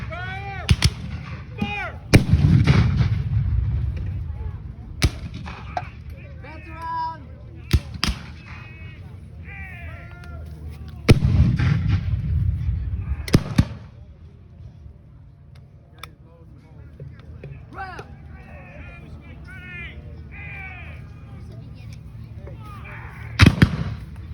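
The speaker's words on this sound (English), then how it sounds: "may have carbines or repeating rifles or repeating carbines where they can fire anywhere from 7 to 13 rounds before reloading" Gunfire at a Civil War battle reenactment, with carbines or repeating rifles: sharp shots scattered through the scene, several loud near cracks and fainter distant reports, over crowd murmur and background talk.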